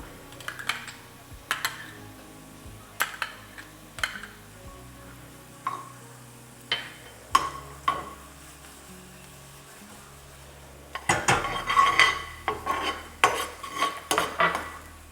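Garlic sizzles softly in a pan with butter, punctuated by irregular sharp clinks and scrapes of a utensil stirring against the pan, with a busier burst of stirring toward the end.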